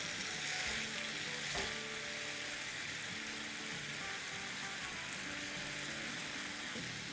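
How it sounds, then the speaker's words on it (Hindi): Potatoes frying in oil in a pan, a dense, continuous hissing sizzle that stays even and fairly loud throughout, with a faint stirring knock near the start. "इसे हमें फ्राई करना है और देखा जाए तो इसे हमें कम्प्लीटली कुक भी कर देना है फ्राई करते करते"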